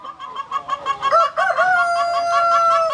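Tiger chickens on a poultry farm clucking in a rapid rhythmic series, with a rooster's drawn-out crow rising over them, close and loud.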